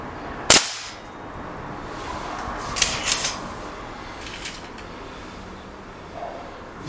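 A single sharp gunshot outdoors at swinging steel targets, loud and close, followed by faint metallic pings and rustling from the targets in the quiet afterward.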